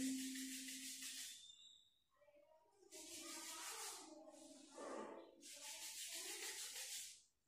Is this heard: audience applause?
no